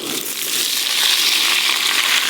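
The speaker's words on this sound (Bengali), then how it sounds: "ওই সবজির ওপরে আর যে বাকি সবজিগুলো আছে দিয়ে একসঙ্গে ভালো করে ভেজে নেব।" Mixed vegetables frying together in a pan while cooking Bengali dishes, a loud continuous sizzling crackle with no talk.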